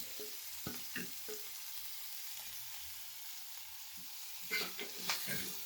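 Finely chopped ginger and green chilies hit hot oil in a pan for a fresh turmeric curry, giving a steady soft sizzle with a few scraping stirs and light clatter of a spoon near the start and end.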